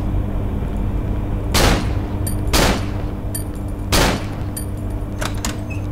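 Gunshots in the horror video game Cry of Fear, three loud, sharp blasts spaced about a second apart over a steady low droning background, followed by faint metallic clicks.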